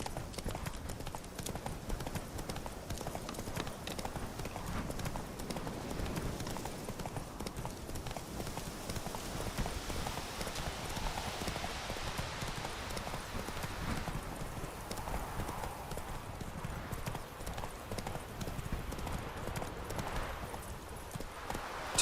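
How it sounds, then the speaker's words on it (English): Horse hooves clip-clop steadily at a walking pace in The Witcher 3 video game, a continuous moderate rhythm over soft outdoor ambience. "Come on, Roach."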